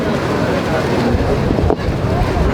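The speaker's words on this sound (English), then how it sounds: "because it is so windy" Strong outdoor wind buffeting a microphone at a memorial plaque dedication in Las Vegas, a loud continuous rumbling roar with one brief dip partway through.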